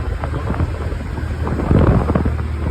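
Rain falls steadily with a low rumble of thunder swelling toward the end, the mix dense and close.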